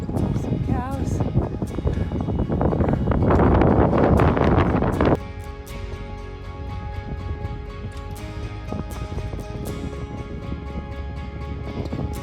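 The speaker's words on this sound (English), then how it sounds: "And it's windy and cold." Strong cold wind in Peru's Sacred Valley buffets the microphone with a loud roaring rush for several seconds, then drops to a quieter, steadier breeze with faint background sounds.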